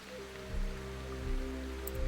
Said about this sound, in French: Bah là, il pleut